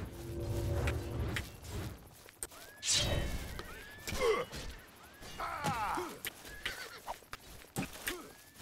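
A horse neighs and whinnies repeatedly amid clatter, hoofbeats and scattered impacts in Elder Scrolls IV: Oblivion, with a few rising whinnies standing out clearly.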